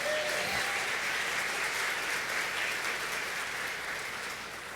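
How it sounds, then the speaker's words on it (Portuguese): Church congregation applauding at an evening service, a steady, even wash of clapping from many hands that fills the room and holds at a constant level throughout. "Você pode aplaudir o nome de Jesus?"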